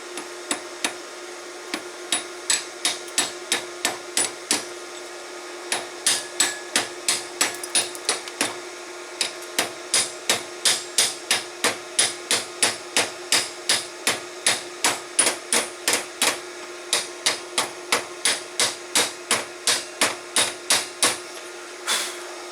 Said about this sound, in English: I like to let that cool for a second before I knock the flux off.